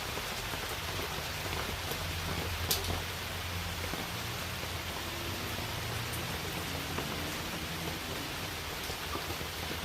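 Steady rain falls on a tent on a stormy night in Santa Rosa, a dense, even hiss of drops that stays close and constant throughout, with low rumbling underneath and no voices.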